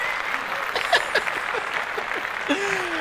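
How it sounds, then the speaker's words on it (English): Clapping during a podcast, a steady patter of applause with voices and a chuckle mixed underneath. "Let's clap that up."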